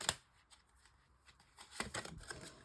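Oracle cards being cut and shuffled by hand, a soft papery riffle with a few quick flicks, close and quiet with a louder burst near the end.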